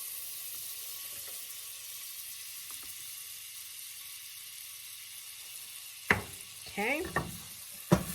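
Butter hits a hot pan with bacon drippings for a bacon, blackberry and brie grilled cheese, giving a few sharp sizzling bursts late on after a quiet stretch with a brief spoken word.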